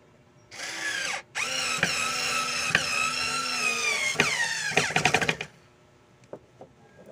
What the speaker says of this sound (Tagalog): Tsaka natin i-drill